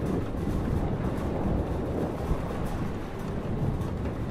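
Thunderstorm with heavy rain in the video game Life is Strange: a continuous, dense wash of rainfall over a deep rumbling bed, steady and close throughout with one faint thud partway through.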